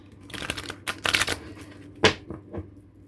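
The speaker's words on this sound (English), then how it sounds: "Okay, so I want to mix some cards up. Mix my cards." Playing cards are shuffled and riffled up close in bursts, with crisp flutters of paper followed by a few lighter taps and slides as the deck is squared.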